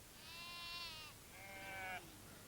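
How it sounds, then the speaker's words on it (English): Two drawn-out sheep bleats on a farm, one after the other, clear and fairly close against a quiet outdoor background. "There are sheep on the farm too."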